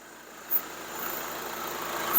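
An Audi A3 TDI diesel engine idles steadily, a low continuous hum with a small bump partway through, no voices.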